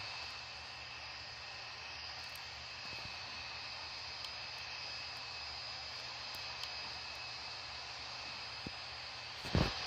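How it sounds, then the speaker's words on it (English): An Air India airliner in vintage retro livery departs in Real Flight Simulator, a steady even jet engine roar holding throughout with a few faint clicks and a brief bump near the end, no talk. "Let's capture the departure for Oliver."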